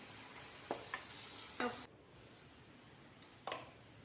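Pointed gourd frying in a pan with ground spices gives a quiet, steady sizzle broken by a few soft stirring clicks and scrapes, with no voices.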